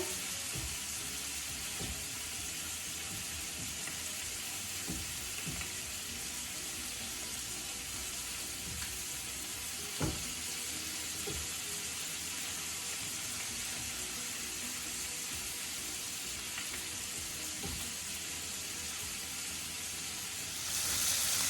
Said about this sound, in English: We're gonna cook these on the other side for about a minute and a half, maybe 2 minutes